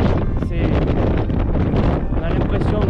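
Strong wind gusting across a foggy mountain trail on a Massif Central crossing, a loud, continuous buffeting roar close on the microphone.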